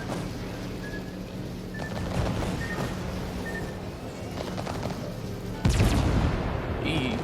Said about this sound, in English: I'm gonna be able to dodge hopefully this salvo.